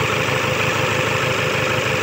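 Toyota Hilux 1KD diesel engine idling with a malfunctioning number 2 injector, a steady, close rumbling clatter with no pauses.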